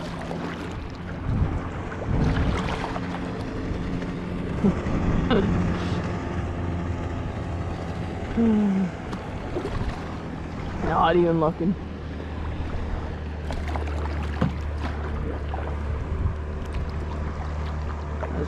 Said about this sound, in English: I hear a boat.